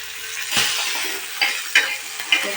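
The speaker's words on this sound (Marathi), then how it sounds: "इकडे टाकली वांगीची भाजी शिजायला" Brinjal curry sizzling and frying in a pan, with a few stirring scrapes and clinks of a utensil against the metal, close and fairly loud with no talk.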